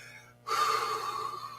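A strong, breathy exhale whooshes out after a brief silence, sustained and fairly close, with no talking.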